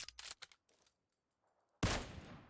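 Gunfire in the mobile battle royale game PUBG Mobile: a few quick shots, then a short pause before a loud, close burst of fire.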